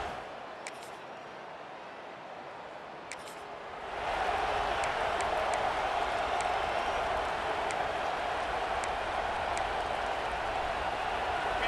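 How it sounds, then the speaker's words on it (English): Stadium crowd noise in the College Football 26 video game builds suddenly from a quiet hum into a loud, sustained roar in a packed home stadium, with faint commentary underneath. "Decibels through the roof in the House of Loud. And what a great job getting this crowd going early."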